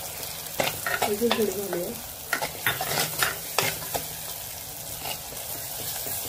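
Ground turmeric and red chilli powder roasting in a hot pan while being stirred, with soft sizzling and scraping clinks under brief talk, for a Kolhapuri misal.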